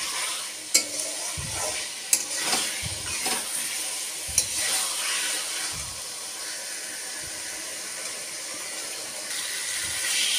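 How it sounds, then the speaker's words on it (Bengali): Taro pieces fry in oil for a fish curry, a steady close sizzle broken by gentle, irregular thumps and scrapes of a spatula stirring slowly through the pan. "আমি আস্তে আস্তে করে এটা একটু ভালো করে কষিয়ে নেব"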